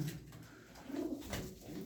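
Pigeons offered for sale give soft, low cooing calls in a few short rolling phrases, close by and fairly quiet, with no talking over them.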